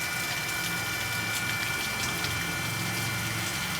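A solar-powered water pump driving a steady flow of water, heard as continuous gushing and splashing at a constant level with a faint hum underneath and no talking.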